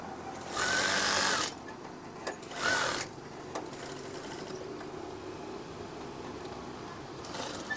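A sewing machine stitching folded curtain fabric at a hem runs in two short bursts of fast, even whirring, with soft handling noises and quiet pauses between.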